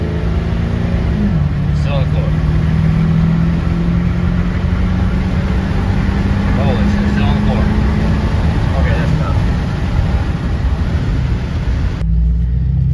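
A Ford 6.4 Powerstroke diesel truck engine pulls hard at full throttle on the road, a loud sustained roar with a rising drone that cuts off near the end.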